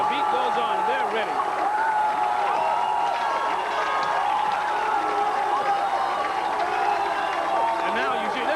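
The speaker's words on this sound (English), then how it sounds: "And now you see the crowd just going crazy." A crowd at a 1990 high school football game between JCA and Morris roars continuously after a Hilltoppers touchdown, with an announcer speaking over the loud sustained cheering.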